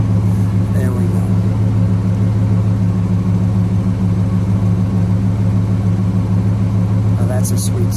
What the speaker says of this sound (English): The exhaust, just let it idle for a second.